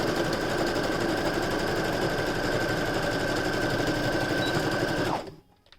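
A sewing machine runs continuously at steady speed while stitching a fabric face mask, a loud even whir with rapid needle ticking that stops abruptly near the end, leaving near silence.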